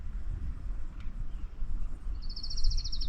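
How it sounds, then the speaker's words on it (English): A California thrasher sings along the Guy Fleming Trail at Torrey Pines State Natural Reserve, a faint, distant run of quick repeated high notes late in the clip over a low outdoor rumble. "You can hear the California thrasher over there."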